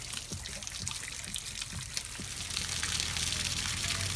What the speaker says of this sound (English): it lets air come in as it's wanting to let the water go out, so it just drains it quicker